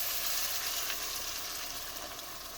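Tomatoes frying gently in a pan with peanut butter paste give a steady, continuous sizzle at moderate level, with no talking.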